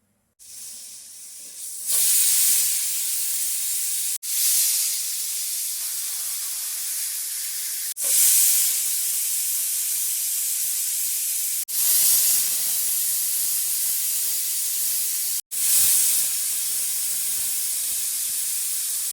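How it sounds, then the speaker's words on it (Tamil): A pressure cooker on the stove vents steam in five loud, long hissing whistles, each lasting several seconds and separated by brief pauses, while eggplant is being cooked. "அஞ்சு விசில் வந்ததுக்கப்புறம் அடுப்பு ஆஃப் பண்ணிவிட்டு குக்கர் விசில் அடங்கிச்சான்னு பாருங்கள்."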